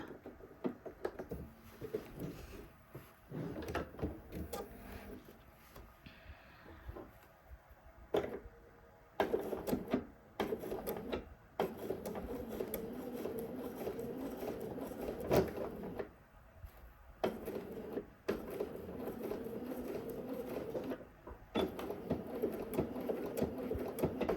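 A sewing machine stitches the sleeve gusset seam of a garment in quick bursts of close mechanical whirring, stopping and starting between stretches of quiet handling noise.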